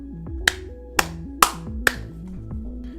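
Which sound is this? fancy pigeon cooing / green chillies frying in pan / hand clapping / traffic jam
hand clapping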